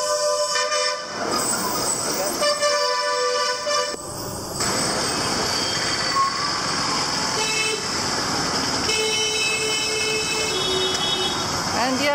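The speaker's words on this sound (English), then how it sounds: "And yes, they know how to sound their horns here as well." Vehicle horns blare repeatedly in busy Madurai street traffic in Tamil Nadu, India, heard from a rickshaw ride. Long and short toots come from several nearby vehicles, overlapping against a constant background of engine noise.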